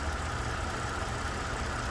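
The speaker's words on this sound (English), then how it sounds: "really quiet running engine, especially for its age." A 2008 Ford Taurus X crossover wagon engine idles at steady, low volume, a smooth, even hum with a faint low rumble and no talking.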